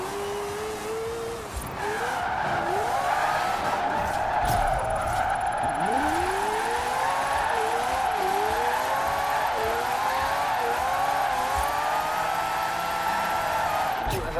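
A 1973 Mazda RX-3 with a 700-plus horsepower rear-wheel-drive drift tune in Forza Horizon 4 drifts around a donut drift zone, its engine revving loudly while tires squeal in repeated sweeping bursts, continuous and close.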